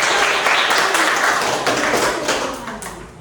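Students in a classroom give a burst of applause, a thick wash of clapping hands that starts loud and gradually tapers off.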